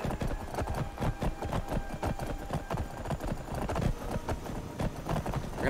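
Horse hooves clip-clop in a rapid, steady rhythm throughout in the video game Wildlander, loud and close with only faint other sound beneath.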